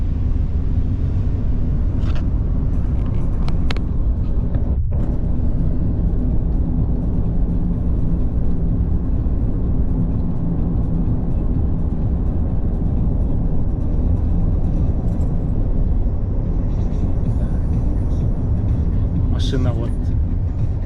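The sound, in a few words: car driving to a gas station in Japan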